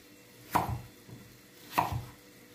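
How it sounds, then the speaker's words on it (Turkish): Knife chopping chicken and potatoes into large chunks on a board: two separate cuts, each a sharp close knock that fades quickly, with a quieter tap between them. "Ben şöyle iri iri doğruyorum dostlar."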